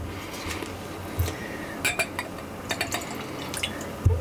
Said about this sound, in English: Let's put a little splash in a glass and